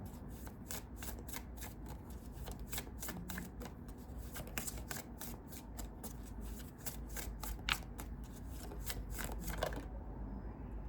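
A deck of mudra cards being shuffled by hand, a steady run of close, soft riffling snaps and papery rubbing lasting several seconds before stopping abruptly.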